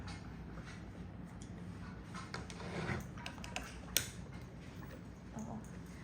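A small PM2.5 air-purifying robot running indoors, a steady low mechanical hum with faint ticking and a few light clicks and taps over a constant background.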